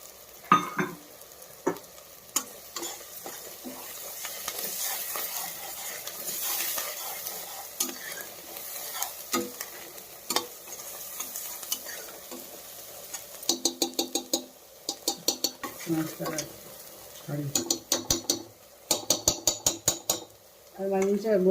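Turmeric and spices sizzle as they fry in a pan, with a spoon scraping and clinking against the metal in bursts of stirring, louder toward the end.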